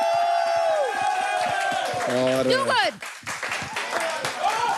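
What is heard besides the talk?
audience applause for the mentors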